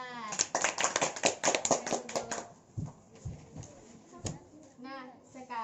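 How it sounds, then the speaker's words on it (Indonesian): Children in a second-grade classroom clap their hands for a classmate, a brief burst of quick overlapping claps in the first couple of seconds, followed by a few scattered taps and light talk. "berikan tepuk tangan kepada Rahmat."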